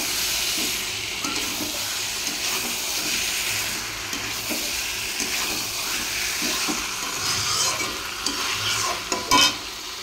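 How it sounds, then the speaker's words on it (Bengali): Meat is stirred and braised in oil in a pan, giving a constant hissing sizzle broken by repeated scraping strokes of the spoon and a brief clatter near the end. "এবার আমি মাংসটা দেবো, দিয়ে ভালো করে কষিয়ে নেব"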